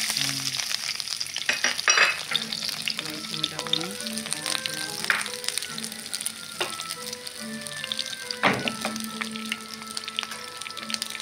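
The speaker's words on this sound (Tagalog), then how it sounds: "Magsugod na ko ugisa sa akong lamas." Garlic and spices sauté for pork adobo with a lively crackling sizzle in the pan, punctuated by occasional spatula scrapes and clinks. Close, moderately quiet, with faint background music tones.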